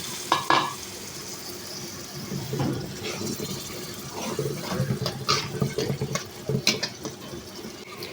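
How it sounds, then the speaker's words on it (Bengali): Spice paste stir-fried in oil with a little water in a home kitchen, a close sizzle with repeated spoon-stirring scrapes and clatters, no talking. "মশলাটা আমি ভালো করে কষিয়ে নেব"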